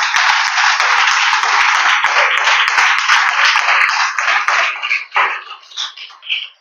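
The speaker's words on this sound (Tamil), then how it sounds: "கைத்தட்டி ஆண்டவருக்கு ஜோரா கைத்தட்டி." A church congregation claps hands in a steady, dense burst of many palms, loud and close, thinning and trailing off near the end.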